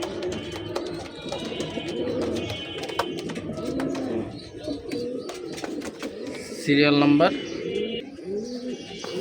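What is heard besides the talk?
almond male Giribaz pigeons cooing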